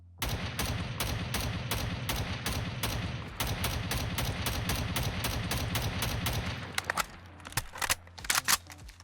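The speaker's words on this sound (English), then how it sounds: "Here is the equipping animation, and of course firing and reloading." A modded rifle in the game Fallout 4 being equipped and fired, with dense rapid gunfire in a long sustained burst followed by a few separate shots and mechanical reloading clacks.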